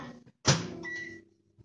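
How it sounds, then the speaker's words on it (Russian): A microwave oven door shuts with a sharp clack, and a short electronic beep and hum follow as the oven starts, close by in a home kitchen. "Все, отправляю в микроволновку"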